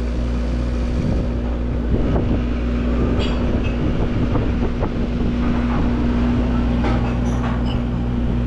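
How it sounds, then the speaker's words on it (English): A freight or passenger train rumbles past steadily nearby in New Jersey, a continuous low roar with wind buffeting the microphone and occasional clanks and squeals, no voices. "I'll spare you folks the boring part of waiting for the train to go by"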